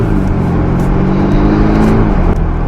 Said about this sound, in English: this has the B46 inline 4-cylinder motor